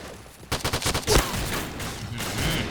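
Ultimax machine gun in the video game Point Blank fires a fast burst of close, loud shots, then a heavy blast and continued gunfire noise trailing off.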